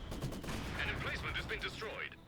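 Machine gun fire from the Company of Heroes 2 video game rattles in quick bursts, with fairly faint, clipped shots sitting in a busy battle mix.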